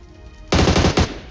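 Gunfire in PUBG Mobile, a sudden loud burst of rapid automatic shots, a short volley followed by a second quick burst, close and punchy with no talking.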